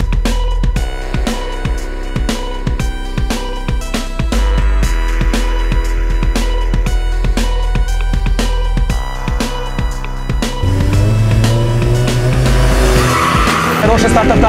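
Race cars, a BMW and an Audi, accelerate hard with loud engine roar and repeated sharp tire squeals. Gear-change bursts and an excited voice can be heard over the din.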